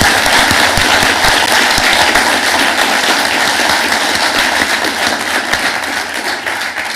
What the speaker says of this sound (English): One more round of applause for all of our 2023 grads.